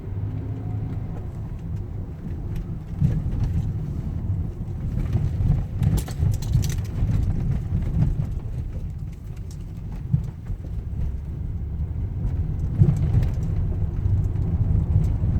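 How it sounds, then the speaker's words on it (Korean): A first-generation Volvo S80 T6 runs along an unpaved road, giving a muffled low rumble from underneath with scattered knocks and thumps from the rough surface. "비포장 도로를 달려보면서 하체 소음을 한번 보겠습니다."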